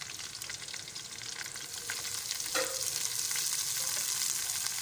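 Steady hissing sizzle of green garlic frying in a hot pan with browned onions, with crackles and a slight surge in intensity partway through, no talking.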